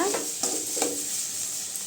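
Ridge gourd stir-fry with grated coconut is stirred in a hot pan, a quiet continuous sizzle broken by a few soft scraping strokes of the spoon near the start.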